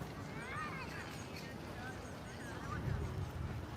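Outdoor honking calls from a goose-like bird, repeated several times at moderate distance under a steady background with a voice talking over them.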